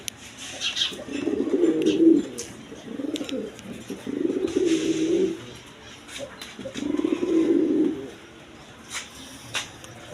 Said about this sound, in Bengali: এখানে এক পেয়ার গররা কবুতর আছে দেখেন বাচ্চারা খুব সুন্দর করে খাওয়াইতেছে